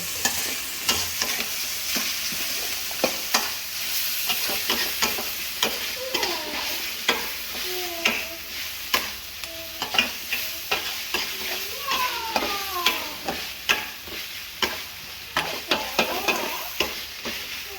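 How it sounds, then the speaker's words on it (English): A Thai dish frying in a pan while Maggi seasoning is stirred in, with a constant sizzle under repeated sharp utensil scrapes and clacks against the pan, close and fairly loud. "That's it, I just stir it in."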